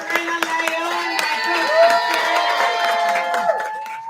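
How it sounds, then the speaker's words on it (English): Audience at a poetry reading claps and cheers in a sustained, bright wash of applause lasting several seconds, with scattered whoops rising above the steady hand-clapping. "Give yourself a huge round of applause."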